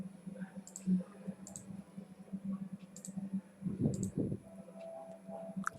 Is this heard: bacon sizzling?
no